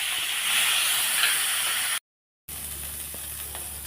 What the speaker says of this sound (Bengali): চিংড়ি মাছটা দিয়ে দিলাম